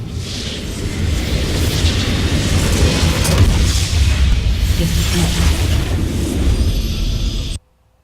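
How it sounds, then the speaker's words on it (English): A turret being destroyed in League of Legends: a sustained, heavy rumbling blast with crumbling debris that holds loud and steady for several seconds, then cuts off abruptly. "Your turret has been destroyed."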